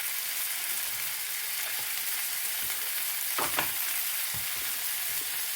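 Oatmeal-coated fish frying in butter in a non-stick pan, giving a steady close hiss of sizzling fat with a few soft clicks and scrapes from a utensil.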